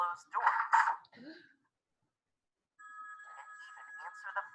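A telephone rings with a steady electronic trill after a gap of silence, preceded by a voice speaking; the ringing is clear and close.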